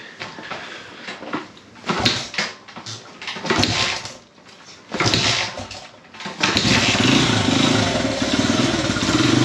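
Honda XR motorcycle engine after a DIY gas tank repair, cranked with the choke on and the kill switch set, catching after a few tries and settling into a loud, steady idle close by.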